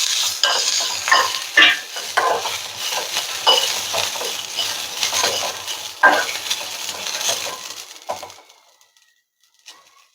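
Coriander and garlic fry in a pan with a steady, close sizzle and clattering stirring scrapes, fading out near the end into quiet.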